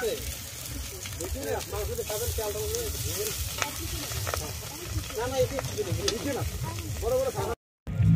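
Rice and pre-fried vegetables sizzle in ghee in a large wok for picnic-style fried rice, with steady frying hiss and scraping stirs, close by, while someone talks over it; a brief silent gap comes near the end.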